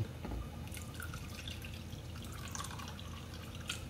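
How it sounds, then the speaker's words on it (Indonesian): Water is poured into a cooking pot before boiling, producing a steady close splashing trickle with a few small drips, with no talk. "Saya tambahin air lagi sedikit."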